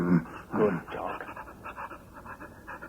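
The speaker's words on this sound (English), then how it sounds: "He's a very nice dog." A big dog named Brutus pants in quick, breathy bursts close by. The panting is loudest at the start and then settles into a softer, steady rhythm, with no talking.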